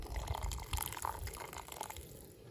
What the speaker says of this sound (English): And just gonna add a little bit of cool water,